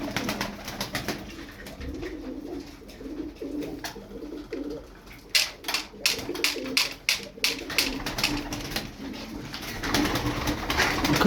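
Twelve Turkish tumbler pigeons coo repeatedly nearby, soft throaty calls with a few sharp wing flaps or clicks in the middle, over a low background hum.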